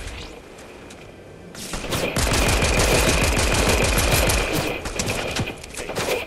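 A teammate fires on a player in Fortnite: a dense, loud burst of rapid automatic gunfire starts after a quieter opening and continues steadily for several seconds before tapering slightly.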